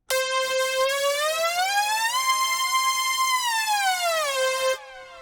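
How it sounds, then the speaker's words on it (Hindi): A sustained synth tone glides slowly upward in pitch, holds, then bends back down, loud and steady with bright harmonics, ending in a quieter tail. "अब मैं इसे स्लोली पिच करूँगा तो आप सुन सकते हो कितना"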